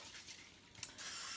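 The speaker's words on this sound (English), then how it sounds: "cupcake pan with non-stick spray, cooking spray" Non-stick cooking spray hissing onto a cupcake pan in a home kitchen, a short faint burst followed by a louder steady spray near the end.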